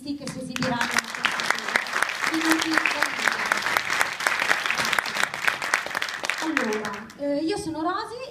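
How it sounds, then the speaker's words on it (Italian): Audience applause for performing artists at a Tibetan culture peace event in Pantigliate, Italy, with sustained clapping from a crowd under talk at the start and end, loud and continuous. "Prima di tutto chiedo un grande applauso ai nostri artisti che si esibiranno."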